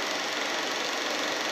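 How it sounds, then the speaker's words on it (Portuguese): An electric fan runs in a room where a church sermon is being given, producing a steady, loud broadband whir and airflow rush with a slight rhythmic flutter, continuous and without talk. "O ventilador está ligado."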